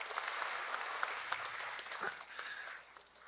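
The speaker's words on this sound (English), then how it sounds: "A round of applause to those two great councillors." A crowd at a mayor's New Year's levee in Brampton applauds steadily, a dense wash of many hands clapping that fades toward the end.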